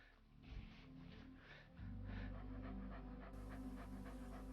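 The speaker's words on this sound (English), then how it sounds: "It's a dog." A dog pants in quick, rhythmic breaths against a low background hum that grows louder partway through, with no one speaking.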